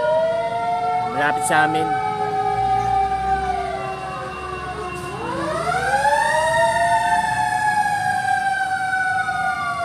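A fire truck's wailing siren rises and falls at a large residential fire on Visayas Avenue in Quezon City, loud and fairly near, with short horn blasts early on and people talking nearby.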